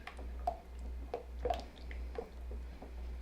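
Thickening soap batter being stirred by hand, soft wet squelches and drips in a slow repeating rhythm, quiet and close over a low steady hum.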